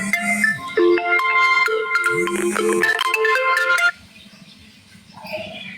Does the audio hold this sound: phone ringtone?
yes